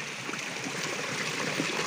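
Water from a small natural spring in the Konkan runs in a steady, broad hiss of flow and trickle, close and continuous, with no voices.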